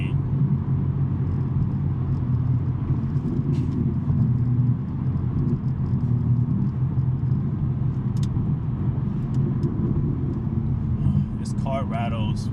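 A BMW M3 with a six-speed manual drones through its aftermarket exhaust while driving, a steady low rumble with cabin rattles and a voice talking over it.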